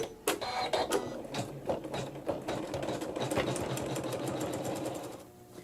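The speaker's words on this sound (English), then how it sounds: "put thread E in the needle and the bobbin and sew the satin stitches" An embroidery machine sews satin stitches with a fast, steady mechanical chatter, close and continuous with irregular thumps, before stopping at the end.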